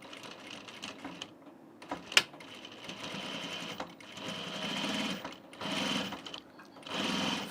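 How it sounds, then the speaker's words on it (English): A sewing machine stitches top-stitching on a seam of an unlined blazer, running in bursts of rapid mechanical whirring with brief pauses and a sharp click, close and fairly quiet, with no talking. "Sounds like I'm sewing corduroy, doesn't it?"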